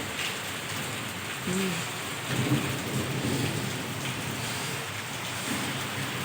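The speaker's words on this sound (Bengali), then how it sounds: "দেখো বন্ধুরা বৃষ্টি পড়ছে দেখো দেখো কেমন বৃষ্টি পড়ছে" Heavy rain pours steadily in a dense, even roar during a thunderstorm, rattling on surfaces nearby, with faint distant thunder rumbling underneath and a brief muffled voice in the background.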